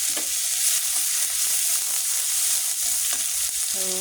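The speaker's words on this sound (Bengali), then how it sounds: "জিরে ফোড়ন জিরে দিয়ে দিচ্ছি দিয়ে দেবো শুকনো লঙ্কা" Cumin seeds and dry red chillies hit hot oil in a pan, a bright continuous sizzle and hiss with a few stirring scrapes, close and steady, as a tempering for a spicy tapse fish curry.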